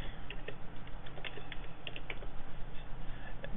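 Fingers type ADB commands on a computer keyboard while setting up a Droid phone, sending a quick, uneven run of light keystroke clicks over a steady low hum.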